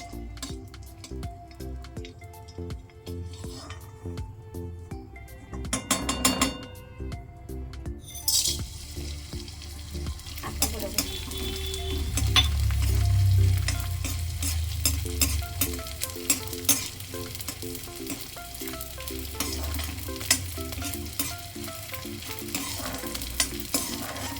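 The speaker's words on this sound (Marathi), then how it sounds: "डिंक फ्राय करायला ना तूप थोडं जास्त असं तापलेलं लागतं, म्हणजे पटकन असं डिंक टाकल्या वरती येतो" Edible gum (dink) fries in hot ghee with a steady, loud sizzle and bubbling, while a utensil stirs and clinks against the pan now and then; there is no talking.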